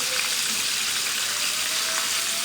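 Albaik style chicken pieces frying in hot oil over a medium flame, a steady dense sizzle and crackle that holds evenly throughout, close and loud with no talking.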